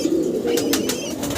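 Sabji racer pigeons coo softly at a pigeon farm, a short run of low, throaty calls with faint chirps above.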